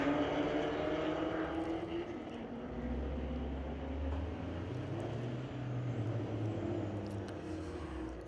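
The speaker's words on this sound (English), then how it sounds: "89 Mustang going to take on Tony Angelis. Out of Coquitlam driving a 99 Camaro" Drag race at Mission Raceway Park, an 1989 Ford Mustang against a 1999 Chevrolet Camaro, heard as a steady, loud engine roar with a low droning rumble that rises and shifts midway, with no pause.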